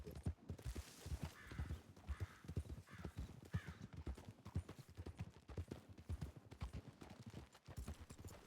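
Horse hooves clop in a quick irregular rhythm in The Trail roleplay game, loud and near, with sharp repeated impacts and no talking.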